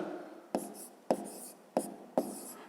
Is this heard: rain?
no